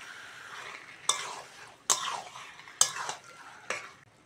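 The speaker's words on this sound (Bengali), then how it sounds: "হালকা হাতে একটু নেড়ে দিতে হবে মশলাগুলো যাতে মাছের গায়ে ঢুকে যায়।" Spiced lote (Bombay duck) fish curry gently stirred in a pan, a soft sizzle under four distinct sharp spatula scrapes roughly a second apart, close but fairly quiet, no one speaking.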